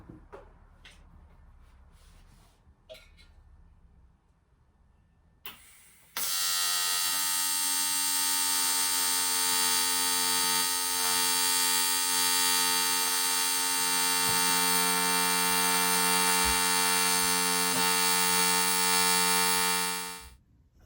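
Cast aluminium is welded in a repair job. A few faint workshop knocks come first, then a loud, steady electric buzz from the welder runs unbroken for about fourteen seconds before cutting off.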